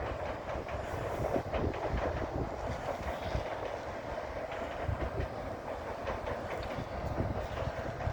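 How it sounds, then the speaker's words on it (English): A train rolls past during a morning walk, a steady loud rumble with rhythmic clickety-clack from the wheels on the rails, close by and continuous throughout, with no voices. "That's my favourite train."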